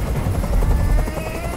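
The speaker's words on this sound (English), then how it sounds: "I can't stand that noise anymore. Tell that helicopter to get out of here." Helicopter rotor chop from the video game Detroit Become Human, a steady loud low thumping wash that fills the short stretch without any talk over it.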